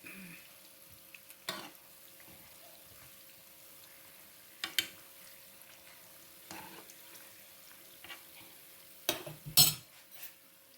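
Sweet susiyam dumplings fry quietly in oil with a low, steady sizzle, broken by a few sharp scrapes and clatters as they are turned, no voices.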